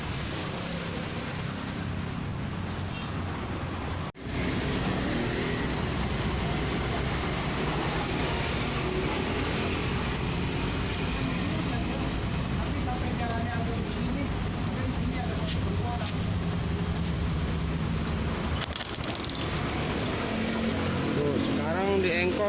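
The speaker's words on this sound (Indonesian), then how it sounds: "Sekarang di engkol itu ada pengapiannya ya teman-teman" A Suzuki Shogun 125 motorcycle engine, started by kick lever, runs with a steady, close mechanical drone, briefly cutting out once, while a person talks over it.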